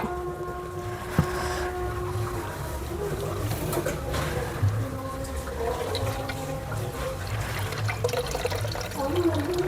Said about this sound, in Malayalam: മൂന്ന് തേങ്ങയുടെ ആയിട്ടും കുറച്ചേ ഉള്ളൂ പാല് അതിൽ തേങ്ങാപ്പാൽ അരിച്ചെടുക്കുവാണ്